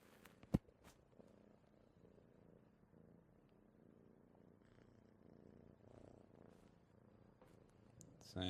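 Soft continuous cat purring, faint and close, steady throughout with a sharp click early on and a louder rustle at the end.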